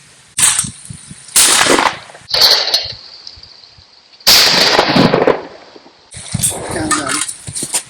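Shotgun blasts from a Beretta 682 E Gold over-and-under fired outdoors at a trap range, several sharp loud reports with ringing decays spaced a couple of seconds apart, mixed with people talking nearby.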